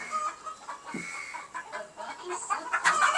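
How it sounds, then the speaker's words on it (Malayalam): Native country hens cluck softly nearby in an egg-laying coop on a terrace farm, with scattered murmuring clucks and a sharper squawk toward the end. "പ്യുവർ നാടൻ കോഴിയാണ് ഇത്"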